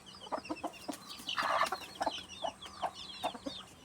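A hen clucks repeatedly in short, uneven bursts close by, with a brief louder flurry of squawking partway through and a faint steady hum beneath.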